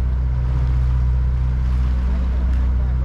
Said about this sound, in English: So, engine noise again for now, but can't complain when you're out on the water.